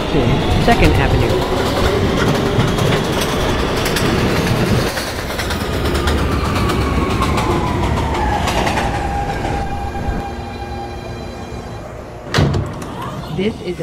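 Manhattan-bound 3 shuttle train in the NYC Subway Automatic game rumbling and squealing as it runs, then slowing with a falling whine, a door clunk and chime near the end, with a voice talking partway.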